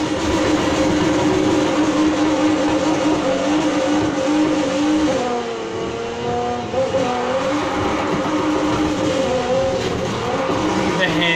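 A 1977 Pontiac Firebird drifting in Need for Speed Heat, its engine droning steadily with rising and falling pitch and faint tire squeal throughout, loud and close, with a voice talking over it.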